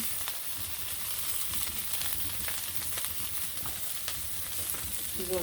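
Spiced food frying in a pan with green chili, salt, turmeric and panch phoron, a steady crackling sizzle at moderate level with occasional faint clinks, no talking.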